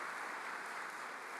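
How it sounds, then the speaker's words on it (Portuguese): A church congregation claps to welcome Pastor Luiz: an even, continuous wash of applause that sounds distant and fairly quiet throughout. "Quero que você receba com uma salva de palmas."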